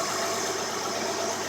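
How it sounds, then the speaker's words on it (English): A car engine idles at very low RPM, almost stalling, giving a steady, fairly close hum with no pauses or talk. "The engine almost stalled."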